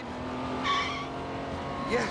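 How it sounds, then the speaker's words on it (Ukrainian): A cartoon race car skids and loses control just before the finish line in a Garfield animated series, a sustained tire squeal over the engine's roar, with a voice talking over it. "Його коробка, його машина втратила контроль просто перед фінішем."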